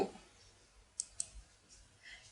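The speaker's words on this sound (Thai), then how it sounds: "คลิกที่เครื่องมือ Deco Tool แล้วก็มาคลิกที่วัตถุ" Two quick, faint mouse clicks selecting the Deco Tool in Flash CS6 and then clicking an object, spaced a fraction of a second apart over a quiet background hum.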